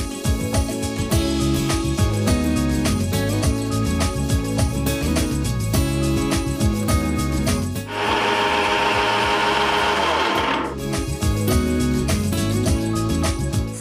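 A mixer grinder churns lentils (dal) in its jar for a few seconds, a loud dense whirring burst rising out of steady background music and cutting off abruptly.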